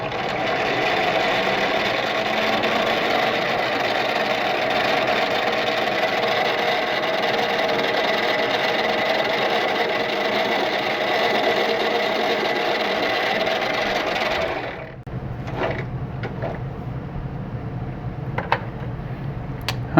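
Machine chamfering a metal part, a steady, loud running drone with an even hum for about fifteen seconds that then cuts off, leaving quieter motor noise and a few scattered clicks.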